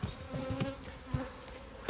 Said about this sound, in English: you can even see the bees coming and going